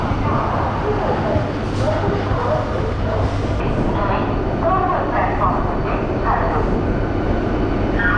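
A Howrah–Amta local train passes close by at a station, a loud continuous rumble and clatter of wheels on rails that fills the whole stretch, with people's voices talking over it.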